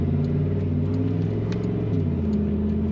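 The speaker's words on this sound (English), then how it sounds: "Great rumble in that exhaust." Deep, throaty V8 exhaust rumble from a 1995 Chevrolet Tahoe LS 4x4 at a steady idle, close and loud, with a slight lumpy pulse and a small blip partway through.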